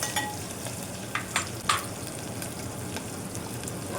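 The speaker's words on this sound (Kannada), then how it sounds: "ಸ್ವಲ್ಪ ಸಾಸಿವೆ ಹಾಕ್ಕೊಳ್ಳಿ, ಫುಲ್ಲು ಬ್ರೌನ್ ಆಗಲಿ ಫ್ರೈ ಮಾಡ್ಕೊಳ್ಳಿ." Mustard seeds frying in hot oil sizzle steadily up close, with a few soft pops and stirring taps scattered through.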